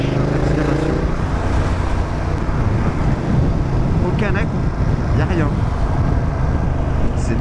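A BMW F900R motorcycle rides along with a quickshifter, its engine drone mixed with strong wind rush and a few quick gear shifts, under a rider's talk.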